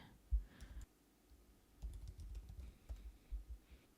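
Computer keyboard being typed on in short clusters of soft, close key taps with brief pauses between them, quiet and without talk.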